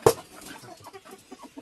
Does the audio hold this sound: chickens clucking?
yes